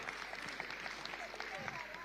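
Faint, distant applause for a bank CEO at a business youth event, with a continuous patter of many hands clapping at low level and no clear voice over it.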